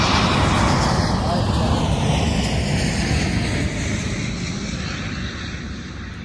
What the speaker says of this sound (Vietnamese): đó máy bay xuống đó, rồi máy bay rồi đó, máy bay đó cả nhà